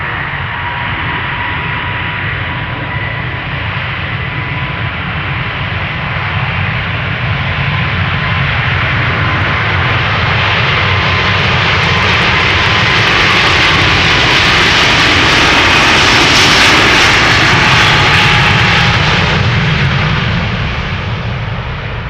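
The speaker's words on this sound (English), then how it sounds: "Cathay Pacific flight 270 to Hong Kong, A350 1000, let's go" A Cathay Pacific Airbus A350-1000 jet takes off from Amsterdam Schiphol: a loud, sustained engine roar with a steady whine swells to a peak near the end and then begins to ease, with no talking.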